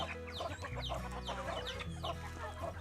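Several village chickens of kampung, pelung and Bangkok breeds cluck continuously at close range, a busy overlapping flock chatter with no voices.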